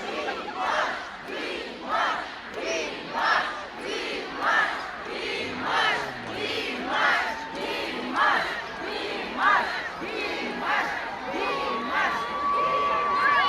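A large concert crowd roars in rhythmic waves of cheering and chanting, loud and sustained, from a big arena audience at a concert in Almaty.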